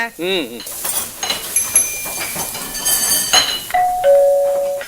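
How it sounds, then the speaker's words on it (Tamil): A doorbell chimes a few times in clear ringing tones, with clinking kitchen sounds and a brief warbling tone early on. "காலிங் பெல் அங்க ரொம்ப நேரமா அடிச்சுக்கிட்டே இருக்குங்க, யாருன்னு பாருங்க."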